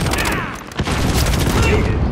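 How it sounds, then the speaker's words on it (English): An electric gun fires in Call of Duty Modern Warfare, a loud, continuous crackling barrage with one sharper burst partway through and voices talking over it. "What's that electric gun?"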